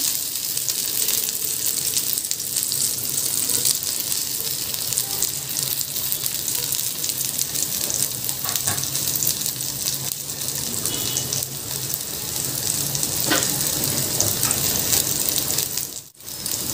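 Garlic sizzling in oil in a pan for zucchini with meat, a dense continuous hiss that stays loud and even, close up with no talk.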